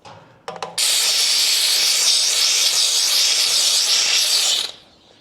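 A steam cleaner blasts a loud, steady, close hiss over a bike, starting after a couple of quick clicks and cutting off abruptly before a brief fade.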